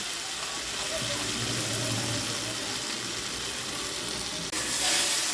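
Water poured into a hot pan of frying shrimp (lakshmi chingri) and potatoes gives a steady, loud hiss and sizzle that swells sharply near the end as the liquid hits.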